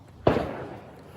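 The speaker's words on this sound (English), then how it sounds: "Gunshots over there. I don't know if y'all heard that" A single sharp crack with a brief decaying tail, heard at a distance outdoors in a city neighbourhood, standing alone without talk.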